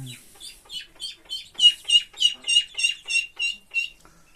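Young muscovy ducks give a rapid series of about a dozen high, sharp peeping calls, evenly spaced and close, with near silence between them.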